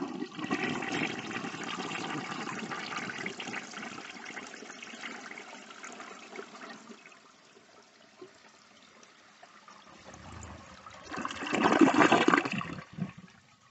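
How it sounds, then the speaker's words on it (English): A 1957 American Standard Cadet toilet with a tilt flush valve flushes: a rushing swirl that fades to a soft trickle of refilling, then a second loud gush near the end. "I will end this video with one more flush of the 1950s Cadet with the American Standard tilt valve."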